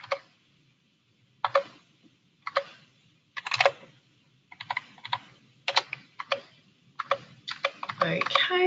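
Short bursts of clicky typing on a computer keyboard while filling out a form in legal practice software, quick runs of keystrokes separated by pauses and growing denser toward the end, close and fairly clear.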